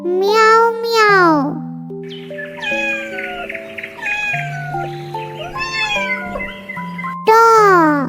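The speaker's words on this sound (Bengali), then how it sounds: "বিড়াল ডাকে মিয়াও মিয়াও" A cat meows in loud, drawn-out cries at the start and end, set against a bright, stepped children's tune with tones that rise and fall.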